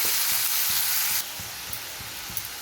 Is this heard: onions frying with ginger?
yes